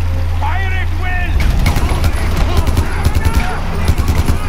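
Bursts of rapid gunfire from the video game Far Cry 4 crackle in a dense, loud volley after a brief quieter lead-in, with short voice-like calls early on.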